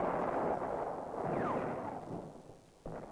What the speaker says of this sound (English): Arab guns zero in again on Israel's vital centers.